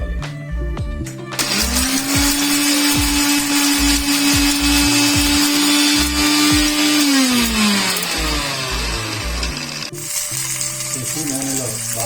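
A mixer grinder blends half a medium onion and garlic cloves into a paste, a loud, steady high whine near the microphone that holds for several seconds, then winds down and restarts briefly.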